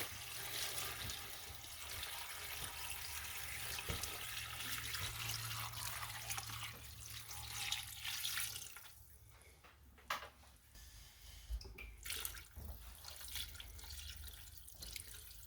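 Water pours steadily from a tap into a large pot, a continuous rushing splash that eases after several seconds into softer trickles and drips.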